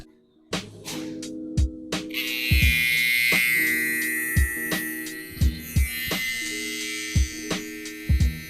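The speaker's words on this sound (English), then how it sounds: "you may want to go in and detail some of these areas like this with your clipper over comb or your trimmer over comb" Electric hair clipper or trimmer working over a comb on a high taper haircut, a steady buzzing hum broken by repeated sharp clicks and taps as the comb moves, close and fairly loud, no talk.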